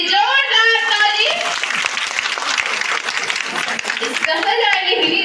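An audience at a ladies fellowship gathering breaks into loud, dense applause that swells and then fades, with voices heard before and after.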